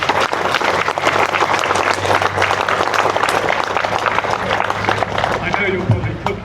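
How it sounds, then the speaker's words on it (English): An outdoor audience at a 70-year anniversary event for the First Overland expedition, with a band of the Grenadier Guards present, gives a big round of applause, dense steady clapping from many hands lasting throughout, with a voice over it. "big round of applause."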